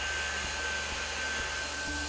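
A high-speed air turbine spindle running at up to 65,000 RPM mills a part with crosshatch passes, giving a quiet, steady whine and airy hiss with soft regular thumps about every half second.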